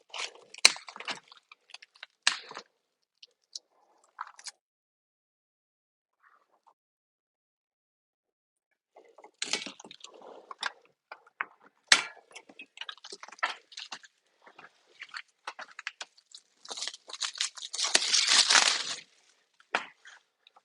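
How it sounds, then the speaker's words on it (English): A Madsen bucket bike is pulled free of its cardboard packaging, giving bursts of crinkling, scraping and crunching that come and go with quiet gaps, ending in a longer, louder rustle near the close, with no talk. "And now I can pull the whole bike out of the packaging"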